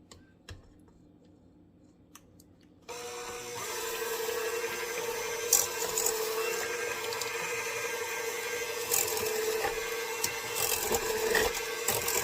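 A hand mixer, run inside a stand mixer's bowl, beats vegan red velvet cupcake batter made with aquafaba. After about three quiet seconds it whirs to life and keeps a steady motor drone, with light ticking and clattering against the bowl.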